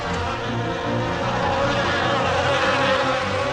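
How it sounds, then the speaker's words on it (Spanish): A dense swarm of flies drones in a steady, loud, close buzz that holds without break, with no voices over it. "Enormes enjambres de moscas venenosas entraron a las casas de los egipcios"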